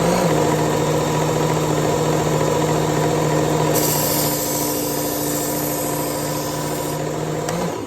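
Belt grinder running steadily while a steel blade bevel is sharpened, a continuous loud motor drone and belt hiss with a brighter grinding rasp joining midway and easing off near the end.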